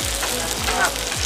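Pork and chicken sizzle on a hot plate in a steady, loud, close frying hiss with soft crackles throughout the brief moment.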